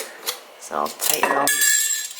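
Metal canning lids and rings clinking and scraping against glass jars of homemade dog food being tightened, a few sharp rattling clatters building into a sustained jingle, close and fairly quiet.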